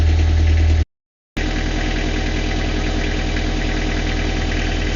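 A boat engine runs steadily at idle with a low, even knocking throb, cutting out briefly for about half a second before resuming its constant drone; no voices.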